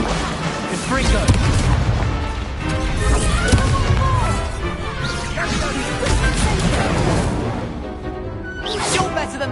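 Chaotic stretch of crashes, booms and whooshing blasts from a Confringo blasting spell in a Harry Potter-style dueling game, loud and continuous with overlapping impacts and voices mixed in.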